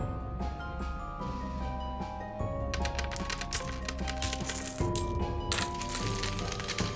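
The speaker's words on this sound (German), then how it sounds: "Es hob eine weitere Münze auf und warf sie in die Truhe." Coins drop one after another into a treasure chest, a dense stream of bright metallic clinks and jingles over a steady low game music bed, growing busier and louder as the pile builds.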